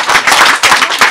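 Loud, close clapping at an auto-cross club gathering, with distinct bursts of hands striking in a fast uneven rhythm over about a second and no speech on top.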